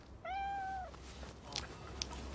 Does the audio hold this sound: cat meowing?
yes